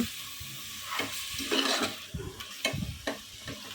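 Camel meat curry stirred in a pan, soft wet scraping and squelching strokes over a gentle sizzle, fairly quiet and close.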